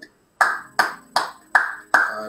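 A congregation at a morning prayer service claps in five loud, evenly spaced bursts, each ringing briefly before the next.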